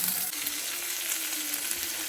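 Chopped capsicum and green chilli frying in oil, a soft, steady hiss of sizzling with light crackles, fairly quiet and alone without any talk.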